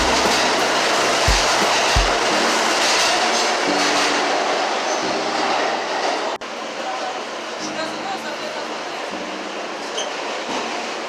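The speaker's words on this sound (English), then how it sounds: "We ended up taking an F train local to Coney Island." A New York subway F train rumbles along with rail noise and a couple of sharp clunks, a steady roar inside the car, with voices faintly underneath.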